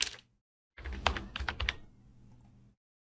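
Typing an email and password on a computer keyboard, a close burst of rapid clicky keystrokes after a short pause, tapering into softer taps before falling silent.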